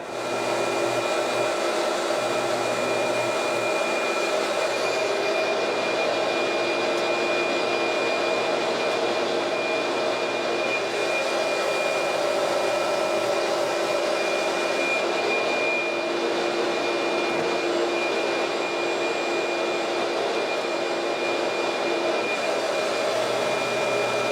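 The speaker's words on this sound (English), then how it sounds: "keep grinding material off of this until we're at that 3/8 height" A loud, steady machine whine from grinding material off a guitar body down to a 3/8-inch height runs continuously and alone, with strong tonal bands and no pauses.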